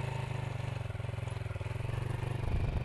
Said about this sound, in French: tu relâches l'embrayage et tu réaccélères